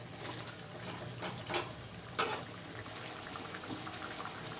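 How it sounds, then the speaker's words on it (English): Marinated dahi chicken fries with onions in a covered pan, giving a soft, steady sizzle and bubbling with a few small pops and spits, close and with no talk. "now this chicken will fry along with the onions."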